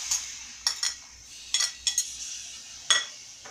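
Utensil stirring chicken with tomatoes and peppers in a pan, oil-free fried chicken recipe: several short, separate clinks and scrapes against the pan, close and fairly quiet, with no talking.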